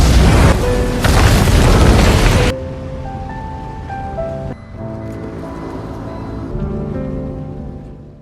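A loud, rumbling bomb explosion in an action film roars for a couple of seconds, then cuts to a quieter ringing tonal drone that lingers afterward.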